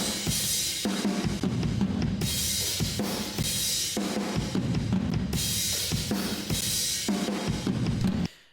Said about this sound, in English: Then another one is a heavily compressed room track,